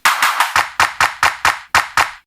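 Sampled clap hits from a Korg Volca Sample, nine sharp bright claps in a steady sequenced rhythm, each with a short decaying tail, loud and alone.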